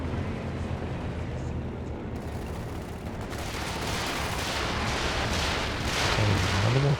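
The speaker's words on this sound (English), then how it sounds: "Another walking Stuka barrage." A walking Stuka artillery barrage in Company of Heroes 2, a 2v2 match: a dense, continuous rumble of explosions and impacts that swells louder after a few seconds, with voices murmuring faintly beneath.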